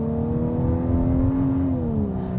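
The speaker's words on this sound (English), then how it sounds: "It's kind of making a synthesized whiny sound, and it doesn't sound like any other 2-liter turbo that Volkswagen has." A 2025 Volkswagen Atlas Cross Sport SEL R-Line with a 2-liter turbo engine accelerating under load, giving a steady synthetic-sounding whine that rises and then dips slightly in pitch, close and loud with no talking.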